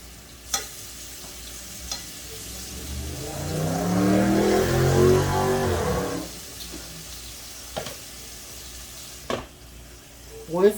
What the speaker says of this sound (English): So I just have a spoon stirring up the beans.